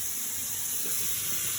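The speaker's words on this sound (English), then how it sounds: "There's the hot water." Hot water runs from a tap in a one-bedroom London flat, a steady close rushing hiss with no pauses.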